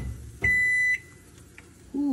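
Microwave oven cooking a spicy chicken sandwich: a clear beep rings for about half a second, a fainter blip follows, then the oven's low hum and another tone start near the end; no talking.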